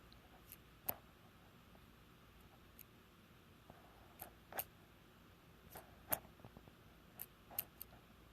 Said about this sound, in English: I just want you to tell me how many times I click this pen